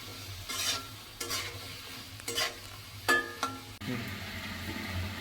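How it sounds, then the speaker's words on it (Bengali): Pumpkin curry being sautéed in a pan, with a spatula scraping and stirring in several separate strokes over a low steady sizzle, close and fairly loud. "মিষ্টি কুমড়ো দিয়ে ভালো করে একটু কষিয়ে নেব"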